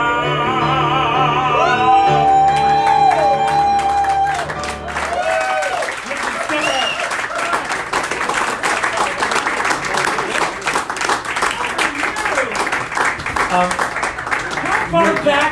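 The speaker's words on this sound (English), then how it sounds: "Can you hear them cheering for me now?" An audience cheers and applauds at a live stage show, a dense, sustained wash of clapping and shouting that swells in after a few seconds of music and carries on loudly to the end.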